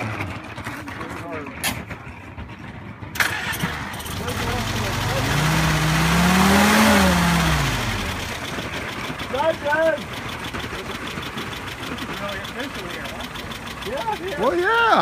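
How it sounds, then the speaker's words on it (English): A Jeep engine at a loudest fan contest starts and idles, then revs up and down in one long swell while voices talk nearby. "You have to start your engine."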